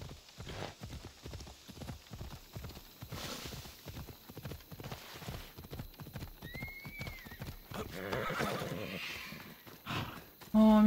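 Horse hooves gallop in a steady, rapid clip-clop rhythm in Assassin's Creed Odyssey, with a neigh partway through and voices speaking over the ride.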